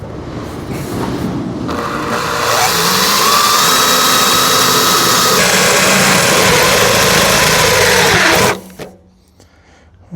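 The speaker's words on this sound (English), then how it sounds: "let me drill these spot welds out" A loud, close drill whines steadily for several seconds as it bores out spot welds on a BMW E36 328, then cuts off abruptly, leaving quiet.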